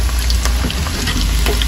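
Chicken lollipops frying in hot oil for a home New Year's Eve party, giving a steady, close, loud sizzle with bubbling crackle throughout and no voices.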